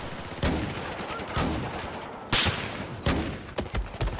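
Gunfire in a Battlefield 4 multiplayer match, with several sharp separate gunshots at irregular intervals in a busy, noisy game mix, loud and close.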